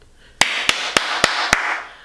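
Five sharp, evenly spaced hand claps ring out close and alone in a quiet room, each with a brief bright tail.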